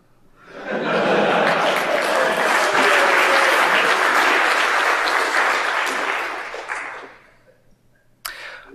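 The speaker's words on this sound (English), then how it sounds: "I've put something on the next slide, which I think is probably statistically guaranteed to get me a round of applause." A round of applause from an audience at a talk, swelling in quickly, holding full and loud for several seconds, then fading out, with a sharp single clap near the end.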